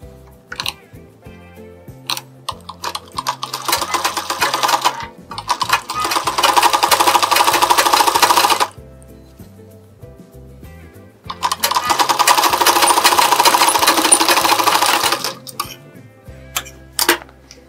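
Sewing machine stitching a blouse lining, in two long loud bursts of steady rapid stitching separated by quieter pauses with small handling clicks, no talking.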